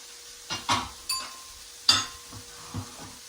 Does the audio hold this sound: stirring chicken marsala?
yes